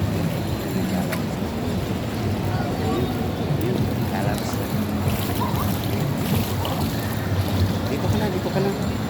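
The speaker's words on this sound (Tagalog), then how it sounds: "Mahagos yung tubig." Steady rushing water surges around a boat in a continuous, loud wash with wind buffeting, while voices talk over it now and then.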